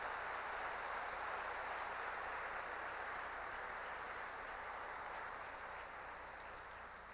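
An audience applauds at an educational-excellence awards event, a steady, dense wash of clapping that holds for several seconds and fades slightly toward the end.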